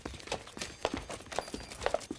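Hooves of horses pulling a carriage in the Legends of Serenity: Everlands Rising Saviors game, an irregular run of hollow clip-clop knocks, fairly close and moderately loud, with no talk.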